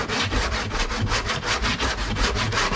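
Rhythmic back-and-forth strokes of a hand sanding block over body filler on a pickup truck panel, steady and close with no talking.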